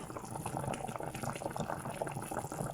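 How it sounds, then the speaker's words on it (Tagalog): Chicken seasoned with salt and spices boils in a pot, a steady bubbling churn of water heard close but quietly, continuous and unbroken with no voices. "Kumukulo na siya."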